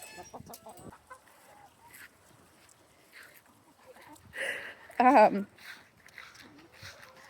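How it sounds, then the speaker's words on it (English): Backyard chickens give short, soft clucks and a louder burst of squawking as they're let out and handed treats, with a person talking quietly nearby. "Right now I'm just bringing some treats out to the chickens while I let them out for the day"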